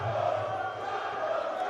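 A large crowd at a Muay Thai fight night roars with sustained cheering and shouting, a dense continuous wall of voices filling the arena throughout.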